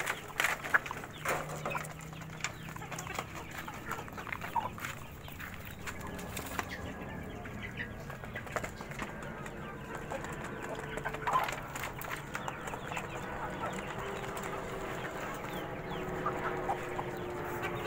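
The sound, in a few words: chickens clucking on a farm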